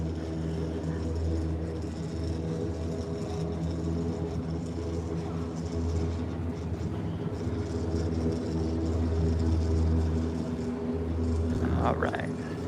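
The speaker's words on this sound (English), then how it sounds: "that noise you're hearing is actually Skyliners." Disney Skyliner gondolas pass directly overhead at a resort playground, giving off a steady mechanical whir and rumble that fills the background throughout.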